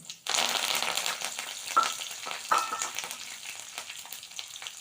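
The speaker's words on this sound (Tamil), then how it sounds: "கடுகு பொரிஞ்சு உளுத்தம்பருப்பும் நல்லா செவந்து வந்துட்டு" Mustard seeds crackle and sputter in hot oil, a dense close sizzle with a few sharper pops that gradually quiets.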